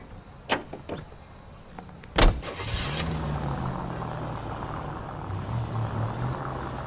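A car in the 1940s Los Angeles detective game LA Noire: a few door clunks and thuds, then a louder slam followed by the engine starting and settling into a low, steady idle.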